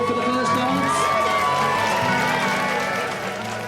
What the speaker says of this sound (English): ladies and gentlemen, if we can have a big round of applause